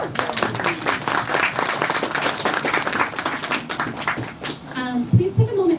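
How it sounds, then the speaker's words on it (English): An audience at a community book event in Salt Lake City breaks into steady applause, dense clapping filling the room, loud and sustained, tapering near the end as a voice begins. "So a round of applause for yourselves."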